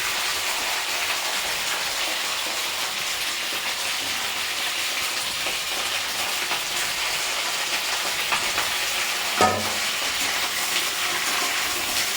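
Cauliflower florets fry in hot oil in a pan, a dense steady sizzle with a brief louder crackle partway through, close and without talk.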